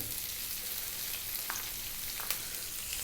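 Fresh curry leaves and onion frying in oil over medium heat for an Indian fish dish, a steady close hiss of sizzling with a few sharp pops and crackles scattered through.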